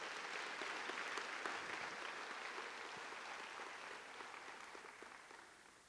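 Church congregation applauding throughout, a dense steady wash of clapping that fades slightly toward the end, with no talk over it.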